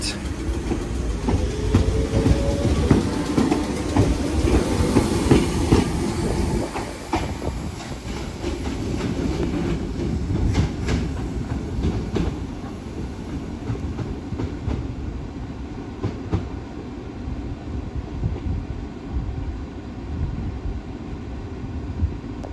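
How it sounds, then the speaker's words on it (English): A Class 508 electric train departs toward Southport, its wheels clattering and rumbling loudly at close range for much of the pass, then fading gradually to a lower steady rumble with wind noise on the microphone. "Train now departing is a 508 going to Southport."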